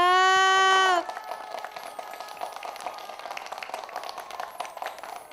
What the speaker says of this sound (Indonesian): Adik-adik yuk kita tepuk tangan yang meriah.